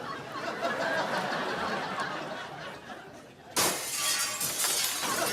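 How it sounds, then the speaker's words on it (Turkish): Glass shatters suddenly and loudly in a home, a sharp crash that cuts through a steady noisy background and is followed by a bright scattering of falling shards. "Bir cam kırıldı sanki ya."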